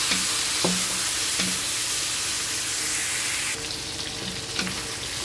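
Shrimp being sautéed in a pan, a loud, dense sizzle running continuously with a few light knocks of the spatula, easing slightly toward the end, no talking.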